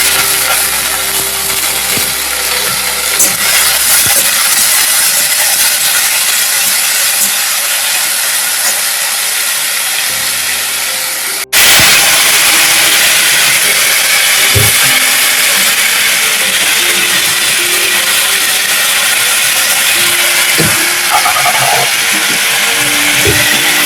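A mixer grinder grinding raw turmeric gives off a loud, continuous whirring roar with a harsh hiss. It pauses for an instant partway through, then starts again and runs on near and steady.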